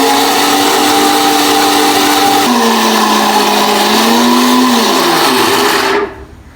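A blender whirs steadily while mayonnaise is made, its motor pitch dipping and shifting as oil thickens the mix, running loud and close for several seconds before cutting off abruptly near the end.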